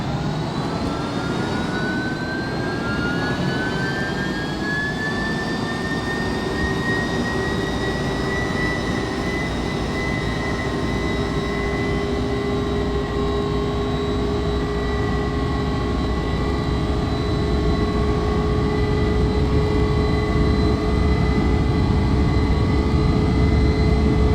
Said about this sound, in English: Take off thrust.